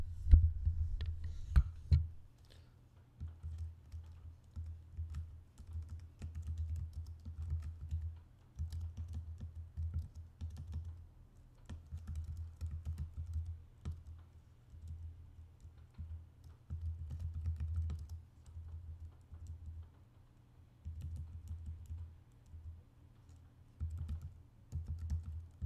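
Soft, steady keystrokes on a computer keyboard while a case name is typed into Apple Pages, the quiet clicking running continuously over a low background hum.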